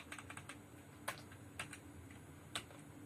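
Close, quiet keystrokes on a computer keyboard while Java code is typed, starting as a quick patter and then thinning into scattered single taps with brief pauses between them.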